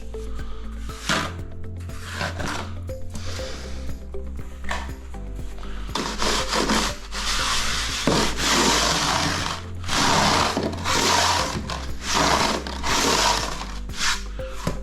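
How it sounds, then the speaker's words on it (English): Wooden float scraping and smoothing mortar screed across a shower base, rhythmic rasping strokes close up, some short and some long sweeping passes, over a low steady hum. "Give it a bit of a trowel, or wooden float I should say."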